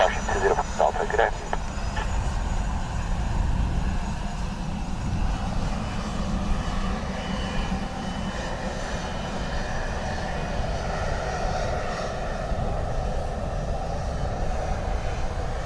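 Airplane engines roar steadily at Dublin Airport during a landing in crosswinds, a broad sustained rumble with air traffic radio talk over it.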